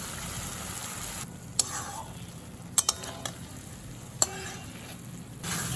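Ridge gourd and potato curry with poppy-seed paste being stirred in a pan over low to medium heat, heard as a soft steady sizzle with several sharp spoon clicks against the pan, fairly quiet and close.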